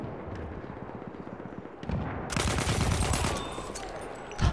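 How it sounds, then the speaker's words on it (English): A grenade blast in the Battlefield 1 multiplayer shooter. It breaks into a loud, broad roar that rumbles on for a couple of seconds over the busy rattle of battlefield gunfire. "Perfect grenade throw."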